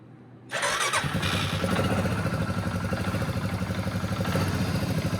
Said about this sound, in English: we're gonna go ahead and fire this four-wheeler up